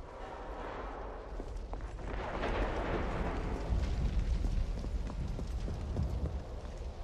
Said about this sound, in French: ces coups de feu qui retentissent au loin